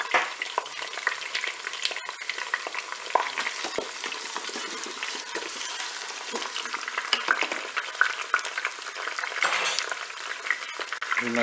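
Shallots frying with duck legs in a Cookeo electric multicooker, a steady dense sizzle with crackling spatters and occasional stirring scrapes, close and continuous throughout.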